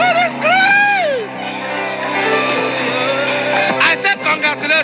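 A church congregation screams and cheers, loud overlapping shouts and whoops from many voices in a large hall, swelling and then continuing as a dense roar.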